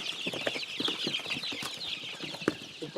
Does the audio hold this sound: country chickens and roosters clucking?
yes